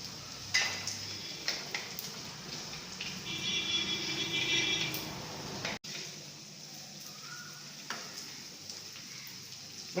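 Small onions and four green chilies sauté in a clay pot, giving a soft, steady sizzle with occasional scraping and stirring taps from a utensil, heard fairly close and quiet.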